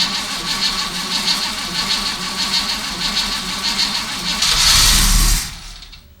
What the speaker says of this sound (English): just crank the engine over for 10 or 15 seconds to prime the inside of the carburetor